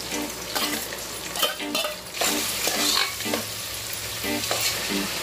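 Long-sliced big onions frying in oil in a pan for homemade chicken biryani, a steady close sizzle overlaid with rhythmic spatula stirring and scraping strokes, fairly loud throughout.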